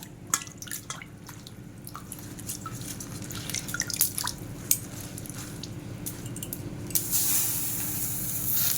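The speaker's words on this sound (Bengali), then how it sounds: "পাতাগুলো ভালো করে ধুয়ে নিই, সব ধুলো ময়লা লেগে আছে তো" Leafy greens being washed under water, with steady dripping, splashing and spraying, scattered clicks and light knocks against a vessel, and a stronger rush of running water near the end, all close and without talk.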